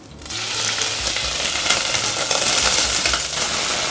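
Scallop skirts frying in a pan with shallots, garlic and ginger, a loud, dense, continuous sizzle that starts abruptly and holds steady with faint scraping, no talk.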